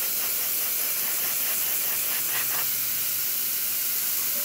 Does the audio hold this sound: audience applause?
no